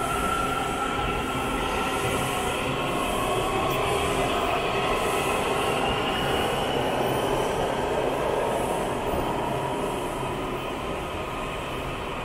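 A Washington DC Metro Red Line subway train toward Shady Grove rumbles steadily and loudly throughout, a constant rolling roar with faint rhythmic wheel tones and no talk.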